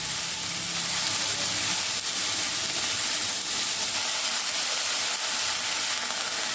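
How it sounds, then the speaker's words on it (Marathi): Chopped spring onion greens fry in hot oil in a pan, giving a loud, continuous, bright sizzle and hiss that holds steady throughout. "जी कट करून घेतलेली कांदापात आहे ती कांदापात यात घालायची आहे ही तेलात आता आपल्याला छान परतवून घ्यायची आहे"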